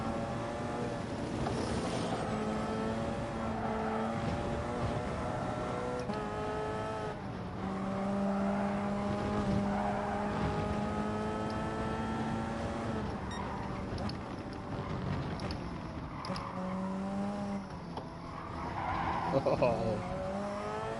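Gran Turismo Sport race car tires squealing as the car understeers through corners, long sustained screeches over a droning engine, with a voice talking at times.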